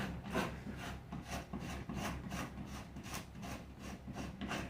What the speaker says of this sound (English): I strip this down till I get down to the fine fibers that are in here